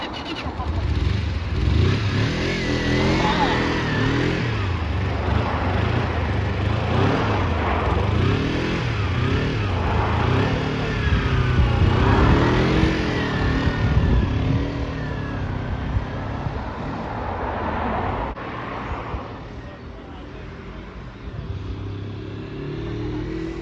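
A Kawasaki Eliminator EL 250 motorcycle riding off beside a canal, its engine droning and revving steadily throughout with some wind noise and a voice now and then.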